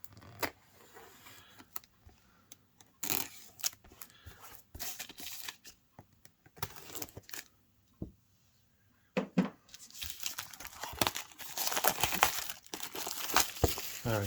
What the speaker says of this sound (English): let's get the cellophane cut open and check out this airbrush